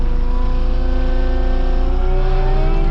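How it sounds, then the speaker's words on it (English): A forestry mulcher's engine revving as the throttle is turned up, a loud, close, steady drone with rising pitch and a deep rapid low thrum throughout, no voices. "Now I'm turning the throttle up a little bit."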